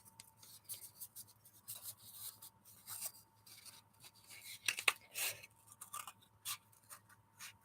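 Scissors slice a cardboard toilet paper roll into rings: quiet, scattered snips and papery rasps come in uneven bursts, with one sharper cut near the middle and no talking.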